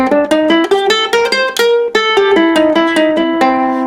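Quick plucked ukulele notes climb and descend a bluesy scale, bright and close, played alone with a brief pause midway.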